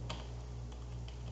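Computer keyboard typing values into spreadsheet cells, a few soft, scattered keystrokes sitting over a steady low hum.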